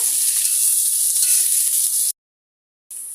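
Onions browning in hot oil put out a loud, steady sizzle close up, then a brief full silence before the hiss returns for the last moment, with nobody speaking.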